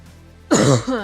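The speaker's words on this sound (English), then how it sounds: "Coughing in your guys' ear." A single quick, close cough and throat clearing bursts out of near silence, loud and brief, with a short rasping tail.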